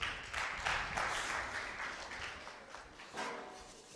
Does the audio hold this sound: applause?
yes